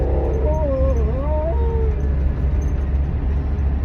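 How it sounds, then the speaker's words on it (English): An excited dog lets out a single wavering, rising howl up close, fading after about two seconds over a steady low outdoor rumble. "he's so excited, he's got a howl."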